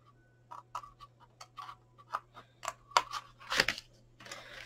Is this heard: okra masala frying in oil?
no